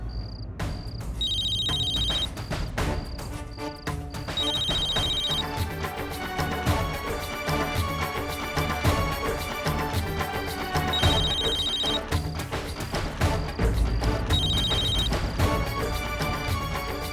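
A mobile phone rings on and on with a melodic electronic ringtone, bright repeating tones layered over a steady musical backing, loud and continuous with no voices.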